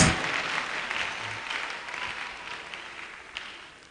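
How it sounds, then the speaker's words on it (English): Audience applause for a valedictorian at a Nigerian university valedictory lecture, a dense, steady wash of clapping that starts strong and slowly tapers over several seconds. "Please put your hands together for him as he makes his way"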